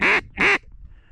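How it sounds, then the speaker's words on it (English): Two loud, close quacks from mallard ducks in quick succession during a duck hunt over decoys, followed by quiet outdoor background. "Well, fucking mallards came over."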